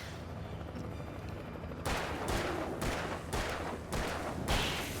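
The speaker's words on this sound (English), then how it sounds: "Best flare gun shot we've ever seen." Rapid flare gun shots fired in the video game Alan Wake, a burst of four or five loud, sharp blasts in close succession over a low rumbling game backdrop.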